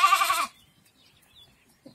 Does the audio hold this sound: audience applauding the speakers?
no